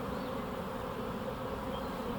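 A dense, steady buzzing of a good-sized swarm of bees, loud and close, continuing without a break from start to finish.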